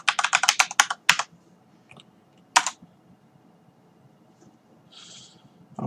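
Quick bursts of key clicks as a password is typed on a computer keyboard, a rapid cluster at first, then a single isolated flurry and a few faint taps, close by with no talking.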